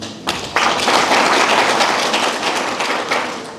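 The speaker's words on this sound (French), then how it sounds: "Je vous demande de les applaudir." An audience at a professional leadership and security diploma ceremony applauds the graduates, a dense, loud wash of many hands clapping together that starts abruptly and holds steady before easing slightly.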